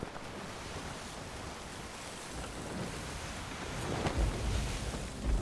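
Wind and rough waves on a stormy sea in Sea of Thieves, a continuous dense wash of surf around a ship that swells louder with deeper rumbling surges toward the end.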